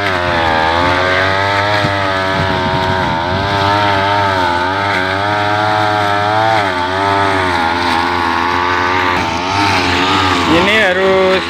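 A nylon-line brush cutter engine runs loud and close in an avocado garden, a steady high two-stroke whine with wavering pitch as the throttle shifts, continuous throughout and rising sharply near the end.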